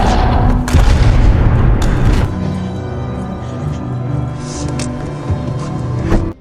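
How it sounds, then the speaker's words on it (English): A gunshot from the action film Kate lands as a loud, heavy boom at the start, followed by a short second blast and a lower, rumbling tail that fades out. "However, Varric has already brainwashed Ani, who shoots Kate to take revenge."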